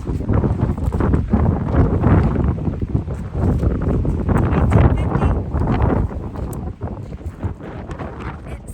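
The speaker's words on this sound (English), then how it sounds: "It's really windy up here by the lighthouse." Strong, steady wind roars and buffets the microphone throughout beside a lighthouse on Nantucket, a loud rushing gust with no clear pauses.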